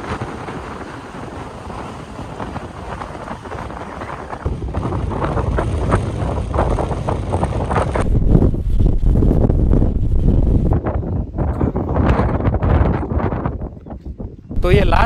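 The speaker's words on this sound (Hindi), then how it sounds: "हवा बहुत तेज़ है बहुत ही ज़्यादा हवा है मैं खुद हिल रहा हूँ खड़ा खड़ा" Strong wind roars and buffets on Kalsubai peak in Maharashtra, above the clouds, with loud, rough gusts rising and falling throughout as someone talks over them.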